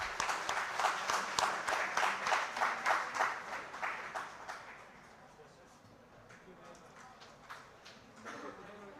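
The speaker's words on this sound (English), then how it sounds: "Please give me a huge applause." Audience applause at an international chemistry conference, a dense patter of many hands clapping that swells for about four seconds, then fades to a low murmur of the room with a few scattered claps near the end.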